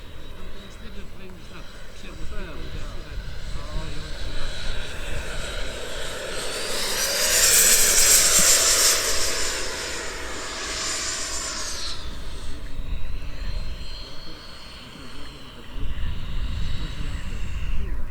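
A Sebart mini Avanti S RC model jet with a WeMoTec Midi Evo 90mm ducted fan on a 12S Li-ion pack whines overhead, swelling to a loud pass midway and fading, with people talking throughout.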